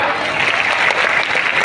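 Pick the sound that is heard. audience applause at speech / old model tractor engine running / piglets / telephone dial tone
audience applause at speech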